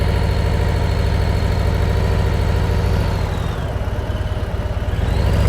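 Harley-Davidson CVO Ultra Limited 2021 motorcycle engine idling steadily with a deep low rumble, close and continuous, dipping briefly as the revs ease then rising again.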